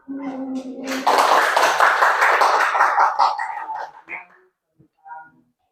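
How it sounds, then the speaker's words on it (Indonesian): A burst of applause from a crowd, steady for about three seconds before fading out, following a brief spoken voice at the start. "Tepuk tangan."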